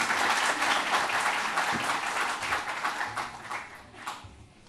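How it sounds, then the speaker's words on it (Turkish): A seated audience at an event reopening the Beyoğlu Cinema in Istanbul applauds to welcome a speaker: dense, loud clapping that holds steady and then thins and fades toward the end. "Lütfen alkışlarınızla davet ediyorum."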